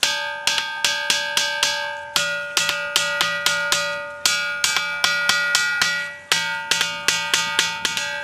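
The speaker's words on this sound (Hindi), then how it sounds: "इस चट्टान के पोर पोर में बसी है धात्विक ध्वनियाँ" Bright metallic ringing tones struck from a rock in a steady, rapid rhythm, like bells, each strike clear and resonant with a lingering ring.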